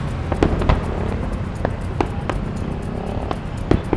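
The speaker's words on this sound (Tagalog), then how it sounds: "May fireworks doon, kaya nagtitinginan sila lahat doon." Fireworks pop and crackle in scattered sharp bursts over a steady low rumble of outdoor city ambience near the KKK Monument, muffled and distant.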